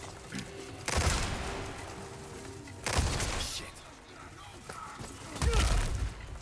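Rapid bursts of automatic gunfire from Resident Evil 4 Remake, with three loud, sharp volleys separated by short pauses over a quieter game backdrop.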